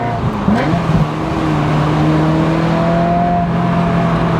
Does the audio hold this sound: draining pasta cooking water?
no